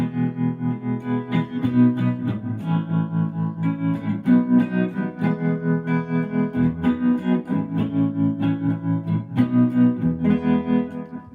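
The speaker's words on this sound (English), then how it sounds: "it also has the much more choppy photocell vibrato" Guitar chords through a choppy, throbbing photocell vibrato, the sound pulsing on and off in a fast regular rhythm, loud and close, no voices.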